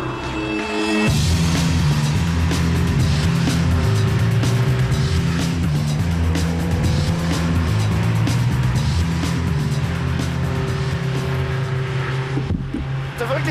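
A Ferrari sports car driving on a country road, its engine droning loudly and steadily throughout from inside the car, with the revs rising and falling, and a voice speaking under the noise.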